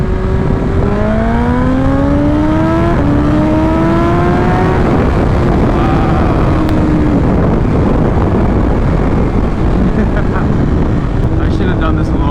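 A 2021 BMW S1000 RR M Package with a Stage 1 tune pulls hard through second gear in race pro mode, the engine note rising steadily before a shift, with loud wind roar throughout.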